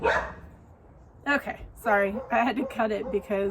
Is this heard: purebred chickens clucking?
no